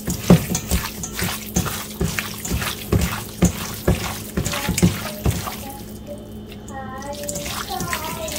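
Diced chicken squelches wetly and rhythmically as a hand mixes it with dark soy sauce and black pepper for kung pao chicken, repeated close squishes for several seconds before a brief pause and a short voice.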